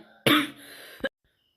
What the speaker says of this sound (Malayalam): ചുമയൊക്കെ വരുന്നുണ്ട് കേട്ടോ